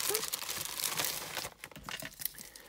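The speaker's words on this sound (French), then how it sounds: "je remets ça dans l'enveloppe" A paper envelope being handled up close, crinkling and rustling as something is slid back inside, loud at first and then quieter and intermittent.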